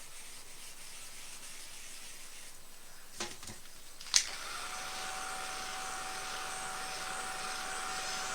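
A hair dryer or heat tool drying coats of paint on artwork between layers starts abruptly after a couple of faint taps and then blows steadily and fairly loudly to the end, with a high whine.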